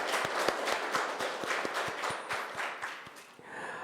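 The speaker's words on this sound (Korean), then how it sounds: "우리 하나님께 영광의 박수를 올려드립니다" Applause from a large church congregation at a Christmas service, steady dense clapping with sharp individual claps standing out, fading slightly toward the end.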